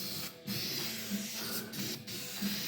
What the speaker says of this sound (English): So I'm going to spray some more new on these.